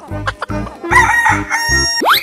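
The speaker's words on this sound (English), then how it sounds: "Chicken." A rooster crows loudly and close, a single full cock-a-doodle-doo with stuttering opening notes, in a children's animal-sounds sequence.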